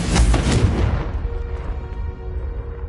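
A Confringo fire spell goes off in the game Hogwarts Legacy as a single loud, close blast that booms at once and then trails away into a fading rumble.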